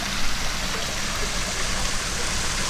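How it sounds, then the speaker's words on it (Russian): Water from a waterfall feature spills steadily into a budget resort hotel pool on Koh Chang, Thailand, giving a continuous, even rushing splash with no pauses and no voices. "с прекрасным водопадом"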